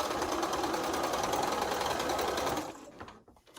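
Sewing machine running steadily, stitching quilt pinwheel blocks seam to seam, a loud close mechanical whir with rapid needle chatter that stops near the end, leaving a few faint handling sounds.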